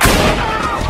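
A loud, heavy gunshot boom with a rumbling tail, from a tense confrontation scene in a 2019 hood crime film, close and dominant with no speech over it.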